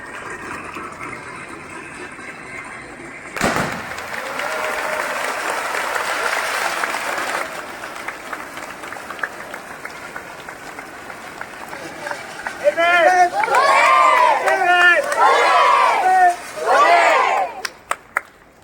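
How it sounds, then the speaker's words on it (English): Students and audience at a school year-ending ceremony applaud the winning house, with sustained dense clapping and crowd noise, and loud cheering and shouts swelling in the last few seconds. "Give a huge round of applause for Red House."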